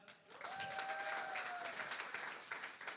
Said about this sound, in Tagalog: And pwede isa pang yung victorious na palakpak.